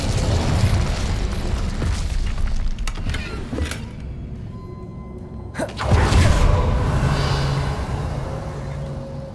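Fiery spell blasts in the Hogwarts Legacy game, loud booming bursts with a roaring whoosh, one near the start and a stronger eruption around the middle that fades into a rumbling tail.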